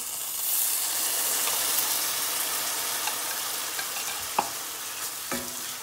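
Ground masala is stirred into frying kingfish curry in a pan: a loud, even steamy sizzle throughout, with a couple of brief scraping knocks near the end and no speech.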